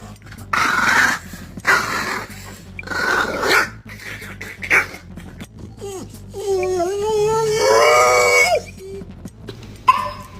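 A dog growls and moans in several drawn-out bursts, then lets out a long whining, howl-like moan, loud and close indoors, with brief human vocal sounds mixed in.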